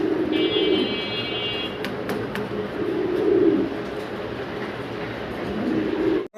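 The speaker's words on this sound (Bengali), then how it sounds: "আমরা জার্মান বিউটি হোমা দেখতেছি" German Beauty Homer pigeons in Andalusian colouring coo in low, rolling bursts inside a farm loft, close and steady over a dense background hum, with no talking.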